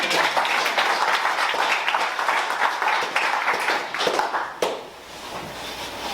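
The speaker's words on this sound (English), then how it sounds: "give them a round of applause" Seminar audience claps through a horsemanship session, a dense, steady round of applause that fades toward the end, leaving quieter room noise.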